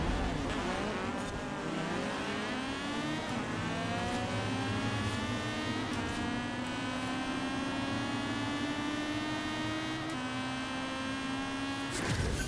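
A drag-built Honda Civic revs hard through manual gear changes in Forza Horizon 4. Its engine note climbs steadily, and a clear shift comes near the end. The loud, continuous roar plays alone, with no talking.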